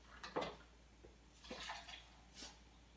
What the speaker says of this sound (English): So I'm just going to go ahead and pour in the milk.